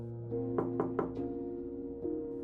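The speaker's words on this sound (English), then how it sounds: "Faint knock, 3 taps on door." Three soft, slow knocks on a door sound in a quiet room over a low steady hum, evenly spaced and muffled, followed by a faint fourth tap.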